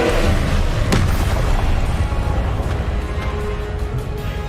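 Confringo, the explosive fire spell in Hogwarts Legacy, goes off as a loud booming blast with a sharp crack near the start, followed by rumbling, crackling aftermath during a duel.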